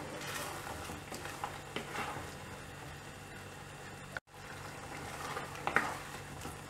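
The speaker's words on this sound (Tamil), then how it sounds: "இதை கொஞ்சம் கலரி விட்டுடலாம்" Tamarind water being stirred into a simmering chili curry for field bean kara kuzhambu: close scraping spoon strokes over a soft sizzle, with a short break midway and no talking.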